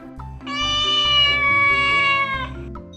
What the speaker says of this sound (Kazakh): Дұрыс, мысықтың дауысы.